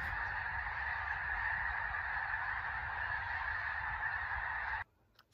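Geese honk in a dense, continuous chorus, loud and close, before it cuts off abruptly near the end.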